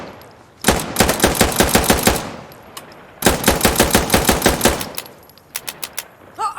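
Gunfire from Insurgency: Sandstorm: two loud, close bursts of rapid automatic fire, each lasting about a second and a half, followed by a few spaced single shots.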